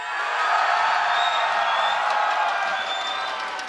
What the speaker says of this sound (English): please give the Chinese champions a cheer